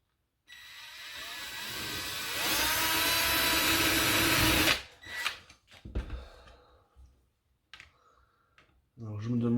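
Power drill boring a test hole in a spare piece during conversion of an Ultramat 14 charger into a homemade charger: a loud, steady whine builds for about four seconds, then stops, followed by short clunks and handling noises.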